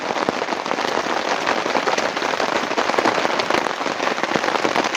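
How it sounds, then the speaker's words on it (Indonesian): Steady rain falls at a rainy, foggy mountain campsite, a dense hiss and patter of drops hitting surfaces nearby, continuous and fairly loud with no talk over it. "Kalau hujan begini mah gimana kita pulangnya guys?"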